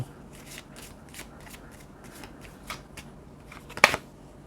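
Tarot cards are shuffled by hand in a run of quick papery riffles and slaps, close and crisp, ending in one louder snap near the end, with no talking.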